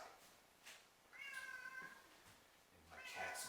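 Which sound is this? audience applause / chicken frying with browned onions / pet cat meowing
pet cat meowing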